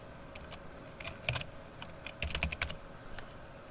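A computer mouse double-clicks while layers are renamed in photo-editing software, giving sharp, close, paired clicks in short bursts over a faint room hum, with no talking.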